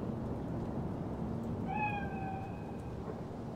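Single drawn-out cat meow in Cyberpunk 2077, rising and then sustained for about a second, clear and fairly close over a steady hum of ambient background noise.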